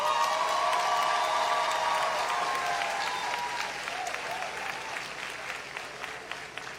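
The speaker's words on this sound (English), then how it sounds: "Let us give ourselves a resounding round of applause" A graduation audience at the UWI Mona ceremony breaks into a loud, sustained round of applause, a thick wash of many hands clapping with scattered cheers and a brief voice early on, slowly fading over several seconds.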